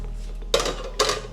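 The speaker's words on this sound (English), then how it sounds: "we're gonna grab our frying pan down here" Two sharp metallic clanks ring out about half a second apart, a frying pan knocking against other cookware close by in a rustic off-grid jungle cabin in Central America.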